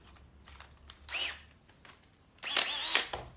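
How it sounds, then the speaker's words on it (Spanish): A cordless drill-driver fitted with a Kreg pocket hole drill bit, two short close bursts of motor whir spinning up and down, separated by quiet pauses. "y la ponemos en el taladro"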